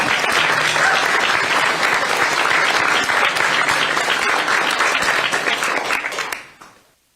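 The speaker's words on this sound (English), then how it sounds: "Insert applause." Sustained applause from an audience at a Wisconsin governor's state budget event, loud and dense clapping that fades out at the end.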